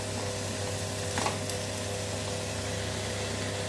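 Coriander, capsicum and tamarind sautéing in a pan while a pirandai thuvaiyal is made. A steady soft sizzle carries through, with a brief stir or scrape partway in.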